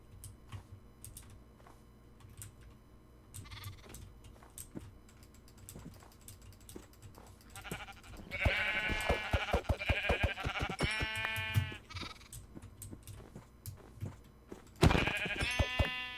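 Blocky Minecraft sheep in a snowy taiga world give a few bleats, the loudest burst in the middle with a last cry near the end, over soft game ambience and clicking.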